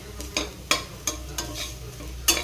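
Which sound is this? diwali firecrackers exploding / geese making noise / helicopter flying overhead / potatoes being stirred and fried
potatoes being stirred and fried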